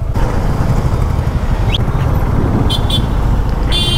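Heavy midday road traffic in Hinjewadi, with a loud, steady rumble of car and motorcycle engines close by and a few short horn toots near the end.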